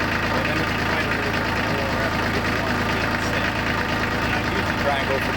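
A tractor engine idles with a steady mid-pitched throb and a faint knocking rhythm while a backhoe attachment is fitted, running close by and unchanging throughout.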